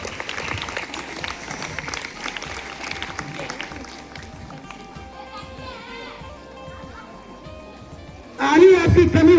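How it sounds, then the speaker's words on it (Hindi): Schoolchildren applaud to welcome a top-ranked student at a Ramanujan Mathematics Day event. Their clapping is steady for a few seconds, then thins out, and a loud voice comes in near the end. "आप तमाम बच्चे जोरदार ताली से इनका"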